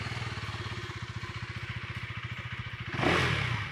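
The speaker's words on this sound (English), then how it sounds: "listen to the 390 Duke's exhaust note" A KTM 390 Duke motorcycle's exhaust thrums at a steady mid-rev pulse, close and loud, then swells abruptly into a harsh rising rev near the end.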